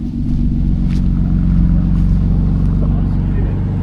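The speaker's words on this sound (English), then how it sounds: "And then we have this BMW just heading off" A BMW M2 with a big spoiler pulls away, its engine a steady loud low rumble that holds for several seconds.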